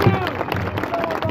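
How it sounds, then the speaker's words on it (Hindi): Crowd at a Congress and National Conference political rally in Kalakot clapping loudly and continuously, a dense burst of applause with a voice speaking over it. "जोर से तालियां।"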